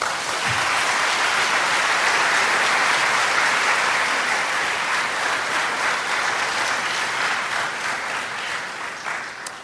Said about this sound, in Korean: 다 박수로 맞이해 주시기 바랍니다.